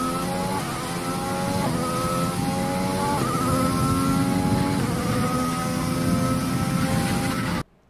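A race car engine in a racing video game screams at high revs around the Red Bull Ring, its pitch climbing through several gear changes under steady throttle, loud and continuous until it cuts off at the end.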